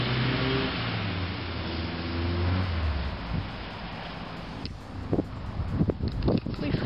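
An old bus engine rumbles as it is driven around a parking lot, loud up close with wind buffeting the microphone, then fading out as people talk.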